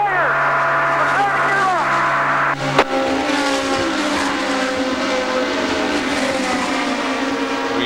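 An IndyCar race car at the 2000 Delphi Indy 200 screams loudly as its engine pitch rises and drops through gear changes, then settles into a steady high drone while commentators talk over it.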